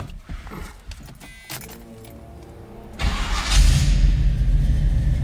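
A 1972 Chevrolet Nova with a fresh 350 small-block V8 cranks and catches after some faint clicks and rustling, then settles into a loud, steady, rumbling idle close by.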